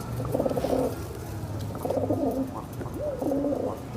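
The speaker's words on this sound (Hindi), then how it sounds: "प्योर कबूतर है झिलमिल का।" Pure-bred Jhilmil pigeons coo in repeated throaty phrases, three or four rolling bursts close by, with low background rumble and no talk.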